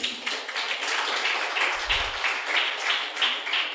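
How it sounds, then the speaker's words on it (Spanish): A church congregation claps in applause, a fairly even patter of many hands at moderate level, with a brief low thump partway through. "Dele un aplauso a Dios por eso"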